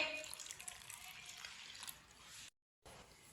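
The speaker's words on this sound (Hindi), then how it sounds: "पानी डाल लेंगे" Water is poured into a spice paste of red chili, turmeric, ground cumin and ground coriander as a close, splashy trickle that lasts about two and a half seconds and then stops.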